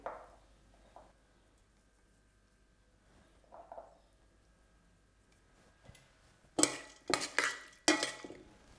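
A spoon stirs a citrus salad with toasted hazelnuts in a bowl, giving soft scrapes at first and then a burst of sharp clinks and knocks against the bowl near the end, in an otherwise quiet kitchen.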